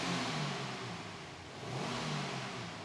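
A 2023 Subaru WRX boxer engine, with a firing order like a conventional engine and a smooth note, revs up twice in quiet, even swells at a moderate distance.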